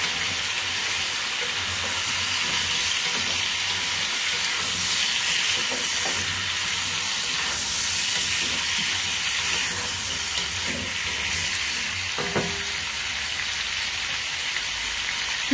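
Chicken pieces for homemade rillettes fry in a pan as an aromatic garnish is added and stirred in, giving a steady, dense sizzle and hiss with occasional soft clinks of a utensil.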